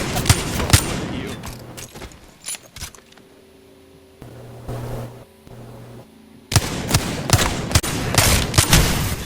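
Rapid bursts of automatic gunfire from the Apex Legends video game crackle loud and close at the start and again near the end, with quieter in-game sounds between the volleys.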